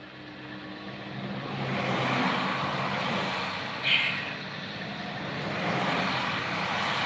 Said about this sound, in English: It's a logging truck.